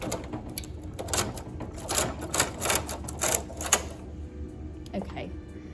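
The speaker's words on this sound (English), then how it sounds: "So when I knit across, it may not knit fully, so I might have to manually do it" A machine knitting carriage running across a row, a rapid burst of clattering mechanical clicks and rattles lasting a few seconds, then fading, with someone talking over and after it.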